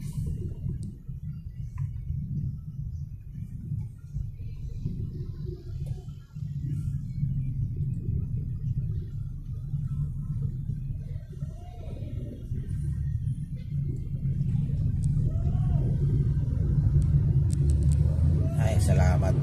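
Road traffic on C5 road: a steady, loud low rumble of passing and idling vehicles continues throughout, with occasional faint clicks and a voice now and then.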